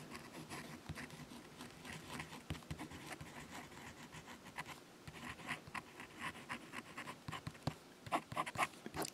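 A fountain pen nib moves across paper in quiet, close, scratchy strokes, with irregular bursts of scraping that grow busier and louder toward the end.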